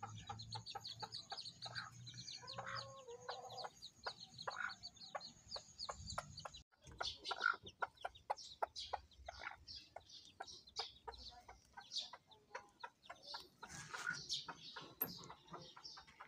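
Young Labuyo chicks peep and cheep in rapid, overlapping bursts close by, a busy continuous chorus of small high calls with occasional clucking.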